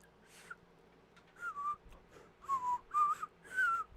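A person whistles by drawing air inward, producing a few wavering, breathy tones in short bursts with pauses between them, close and fairly soft, with no talking.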